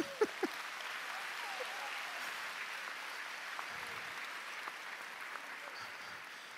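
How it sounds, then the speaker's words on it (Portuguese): Students in a class applaud after following their teacher's moves, a soft, fairly distant patter of many hands sustained for several seconds, with a few sharper claps near the start and faint voices. "Pode aplaudir, meus discípulos"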